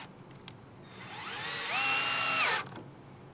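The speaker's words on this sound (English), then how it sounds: "I'm gonna take some screws and screw these two sides of the camper together" A power drill drives a screw into the curved wall of a vintage camper, one burst of motor whir rising in pitch, holding, then cutting off, fairly close, with no talk.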